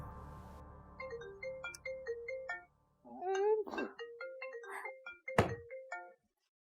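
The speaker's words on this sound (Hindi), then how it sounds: "हेलो अरसलान, इस वक्त फोन किया, सब ठीक तो है ना?" A phone ringtone plays a stepped electronic melody that pauses and then resumes, with brief thuds and other noises mixed in.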